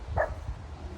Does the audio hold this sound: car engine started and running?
no